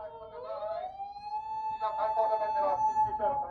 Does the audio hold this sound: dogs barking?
no